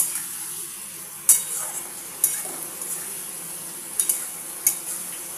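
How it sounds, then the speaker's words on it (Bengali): Pointed gourd, potato, eggplant and drumstick sauté in a pan under a steady high sizzle, with a few sharp utensil scrapes and clinks spaced through it, close and fairly quiet. "সবজিগুলো দিয়ে একটু কষিয়ে নিই, তারপরে আমি জল দেব।"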